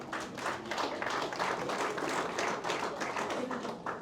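Wedding guests applaud in a hall, a steady, fairly quiet patter of many hands clapping at a distance.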